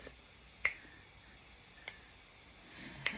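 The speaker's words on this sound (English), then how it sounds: "Maybe snap your fingers" Finger snaps in a quiet room during a seated chair dance, three crisp, isolated snaps spaced about a second apart over faint background hiss.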